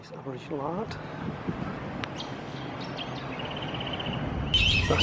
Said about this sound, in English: That screeching noise, a bat.